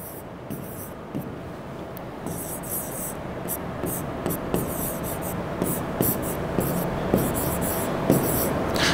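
Chalk or marker scratching across a board during a physics lesson on projectile motion, a steady run of close, dry strokes punctuated by sharp taps as letters are written, with no talking.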